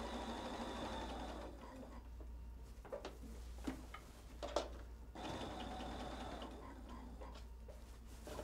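Sewing machine stitching down tote bag straps for a quilt-as-you-go insulated shopper tote, a steady mechanical hum running in two long bursts with a brief pause between them.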